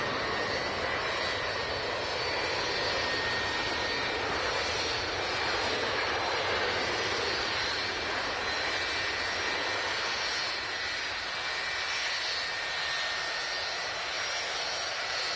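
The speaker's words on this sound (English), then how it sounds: "Departure. Jet2 757. Here we go." A 32-year-old Jet2 Boeing 757-200 departs Manchester Airport, its jet engines giving a steady, loud, broad roar that holds without letup throughout, with no voices.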